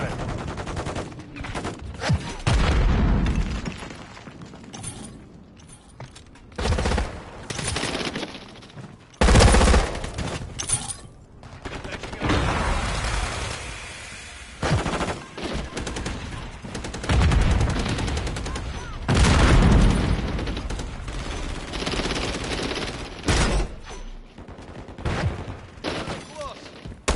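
Turret and rifle gunfire in the Call of Duty game, heavy bursts and rattling automatic fire coming in uneven volleys, loud and close, with game voice callouts mixed in.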